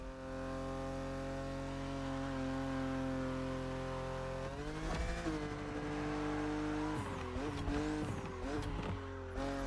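A BMW Z roadster races in The Crew Motorfest, its engine holding a steady sustained drone. Gear shifts and revving come through partway along, and tire squeal rises toward the end.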